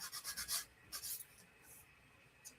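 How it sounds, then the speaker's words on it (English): Sandpaper rubbing on a plastic model kit part for an Atreides ornithopter build, a quick run of short rasping strokes followed by a pause, then two more brief scrubbing bursts, close and fairly quiet. "I don't know if it's just the plastic in this kit or just the way I'm sanding this off"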